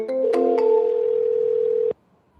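A telephone dial tone sounds on a redialed call. After a couple of short button blips it settles into a steady, loud, pure hum for almost two seconds, then cuts off abruptly to near silence.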